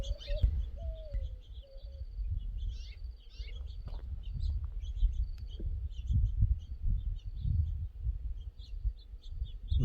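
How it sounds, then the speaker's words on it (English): Several small birds chirp and call in scattered bursts over a low outdoor rumble, fairly near, with short tweets coming and going. "Lots of birds active this morning."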